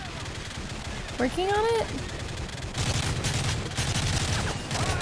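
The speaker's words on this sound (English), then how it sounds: "Heavy fire. Get that MG down now." Heavy machine-gun fire in the Call of Duty: Modern Warfare 3 video game, dense rapid bursts under game effects, with a brief voice cutting in.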